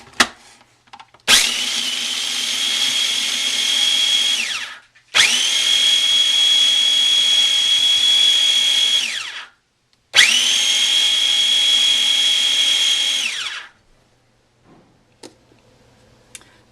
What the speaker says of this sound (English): Okay, so I'm going to grind these up to a powder.